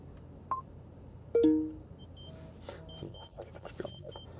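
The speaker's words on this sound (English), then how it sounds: "my phone is beeping, my blood sugar alarm" A few short electronic beeps and tones from a phone's blood sugar alarm sound close by, spaced irregularly over a quiet background hum inside a Porsche Taycan.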